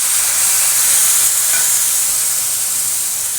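Cumin and green chili paste sizzle in a pan of oil for a fish curry, a loud, steady, close hiss that holds throughout without breaks.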